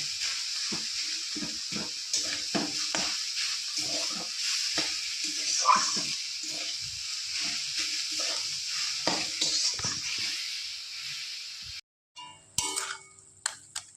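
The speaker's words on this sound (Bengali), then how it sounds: "শাকটা কিছুক্ষণ ভালো করে ভেজে নেব।" Chechi greens (shak) with green chillies fry in a pan, a soft continuous sizzle with repeated scraping strokes of a spatula stirring, ending in a few light clinks of utensils.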